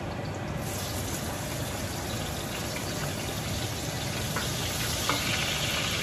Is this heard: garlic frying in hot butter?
yes